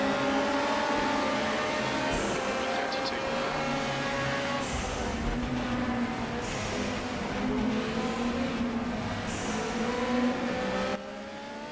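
Group 5 race cars in RaceRoom, several engines roaring and revving hard as they pass, with rising and falling pitch, overlapping passes and a brief drop near the end.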